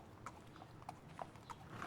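Horse hooves clip-clop at an even walking pace on a hard surface as an audiobook sound effect, fairly faint and steady over about two seconds.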